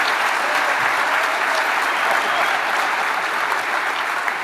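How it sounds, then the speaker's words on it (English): Sustained applause from a large conference audience at DEF CON 21, steady and loud throughout with no pauses. "so give them a big round of applause."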